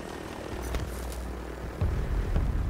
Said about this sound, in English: These drones are stopping my helicopter from moving, dude.